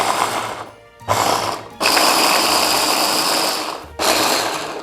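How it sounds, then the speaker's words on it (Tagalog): Electric grinder whirring through cauliflower and other ingredients in a kitchen: loud, buzzing motor bursts close by, stopping and restarting in several runs of one to two seconds with short gaps between them. "So, we're done with the grinding process."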